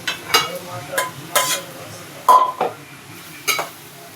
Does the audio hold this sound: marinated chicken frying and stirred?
yes